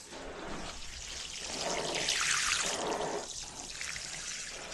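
Water pours onto newly planted tomato plants, a soft trickling splash that swells in the middle and then eases off as the compost is soaked.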